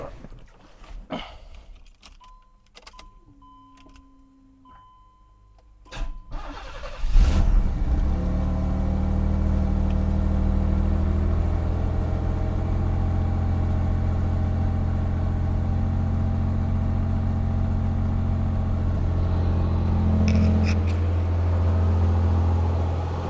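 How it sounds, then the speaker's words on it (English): A Pontiac Fiero GT V6 cold-starts after a few clicks and key sounds, cranking briefly before catching into a loud, steady idle with a deep low hum that rises slightly near the end, recorded up close. "All right, now, let's get that cold start."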